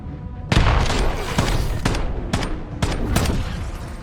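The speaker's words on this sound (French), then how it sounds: "Grenade paralysante lancée." A stun grenade goes off in the Black Ops 7 video game, a loud sharp blast followed by a run of heavy, rapid bangs and crackling bursts in busy combat, dense and close.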